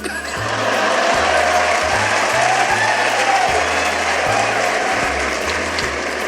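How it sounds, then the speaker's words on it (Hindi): Loud, continuous applause fills the room as an audience claps for satirical verse at a Hindi kavi sammelan poetry gathering, holding steady for several seconds with a low hum underneath and no clear speech. "और व्यंग पर तालियां तो अब आपकी अब उठेंगी।"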